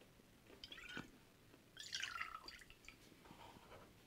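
Luxardo liqueur is poured for an Aviation cocktail, giving soft, faint liquid drips and a short trickle in a quiet room, with a brighter splash near the middle.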